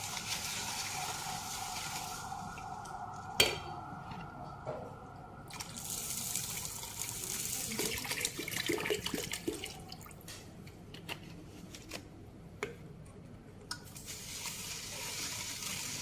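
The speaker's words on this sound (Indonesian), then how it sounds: "Sambil proses pengadukan, nanti kita tambahkan sedikit demi sedikit air." Water is added little by little to a coarse salt brine while it is stirred for salted eggs. A steady close trickle and splashing carries on throughout, with occasional clinks of the stirrer.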